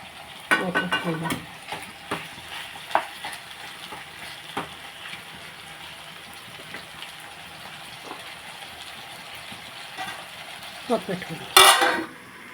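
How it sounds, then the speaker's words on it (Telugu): Chopped tomatoes frying in a pan for potato curry, stirred with a utensil: a soft steady sizzle broken by repeated scraping and clinking strokes, quieter in the middle, ending with a sharp burst of metallic clatter. "ఒకసారి టమాటా వేసి మనం కలిపేసుకుంటున్నాము కొంచెం టమాటా అంతా మగ్గిపోయేదాకా"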